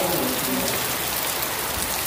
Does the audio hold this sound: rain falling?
yes